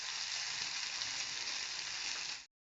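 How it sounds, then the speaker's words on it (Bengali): Masoor dal frying in a pan with onion, chilli, garlic and bay leaf for khichuri, a steady close hiss of sizzling oil at even level that stops abruptly near the end. "এখানে পেঁয়াজ, লঙ্কা, রসুন, তেজপাতা দিয়ে মুসুর ডালটাকে ভেজে নিচ্ছি খিচুড়ি করার জন্য"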